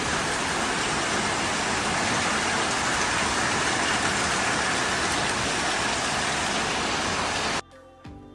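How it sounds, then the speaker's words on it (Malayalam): Heavy monsoon rain in Kalpetta pours down in a dense, even roar that stays loud and unbroken for several seconds before cutting off abruptly, with no thunder standing out. "അങ്ങനത്തെ മഴയാണ്."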